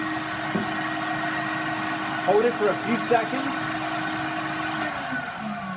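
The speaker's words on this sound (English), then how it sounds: "turn the vacuum on, and hold this down." Vacuum forming machine with its vacuum running, a steady mechanical hum and whir heard under a person talking.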